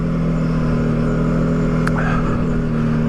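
An ATV engine running while being ridden on a trail, a steady close mid-pitched drone with a brief sharp click partway through, no talking.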